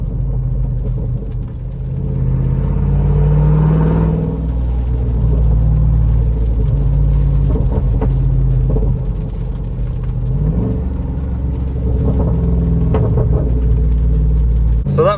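A Jeep Rubicon 392 V8 rumbles at close range, rising and falling as the throttle is tapped, with a deep steady drone between the swells.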